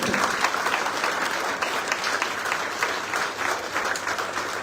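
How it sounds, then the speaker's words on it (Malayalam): An audience at a film event applauds, a dense, even round of clapping that stays steady and close throughout without voices standing out. "ഒപ്പം നമ്മുടെ ടോട്ടൽ ഡയറക്ടേഴ്സ്, ടോട്ടൽ നല്ലൊരു ക്ലാപ്പ്."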